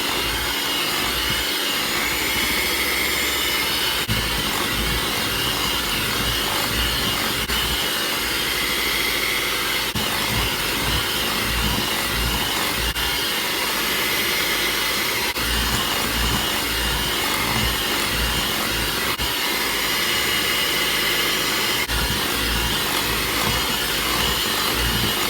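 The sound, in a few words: electric mixer beating eggs into peach pound cake batter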